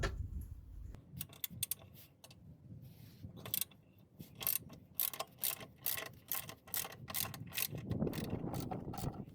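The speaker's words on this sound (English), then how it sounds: "So just gonna undo the bolt going into the subframe to start with." A ratchet undoes a 16mm engine mount bolt going into the subframe of a VW Polo, producing rapid close metallic clicking in repeated bursts.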